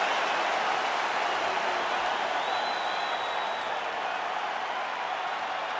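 Arena crowd in the UFC 5 video game, gathered for a heavyweight fight, keeps up a steady, dense wash of applause and crowd noise for the whole stretch, with no clear break.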